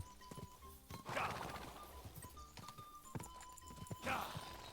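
A horse in the video game Kingdom Come Deliverance 2 gallops with rapid clip-clop hoofbeats and lets out two loud neighs, one early and one near the end, close up and alone.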